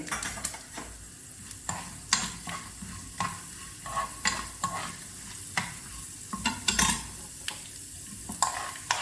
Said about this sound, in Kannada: ಈಗ 2 ಟೀ ಸ್ಪೂನ್ ಕಡಲೆಬೇಳೆ ತೊಗೊಂಡಿದ್ದೀನಿ, ಅದನ್ನು ಒಗ್ಗರಣೆಗೆ ಹಾಕ್ತಾಯಿದ್ದೀನಿ.